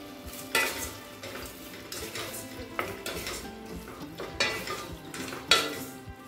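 Tomatoes sauté for tomato kootu with a soft sizzle while a spoon stirs and knocks against the pan in irregular strokes, close by, over a steady cooking hiss.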